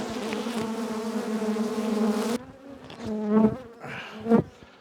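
Honeybees buzzing close around a beehive, a steady droning hum that cuts off and returns as individual bees fly past, with shifting pitch as they approach and recede.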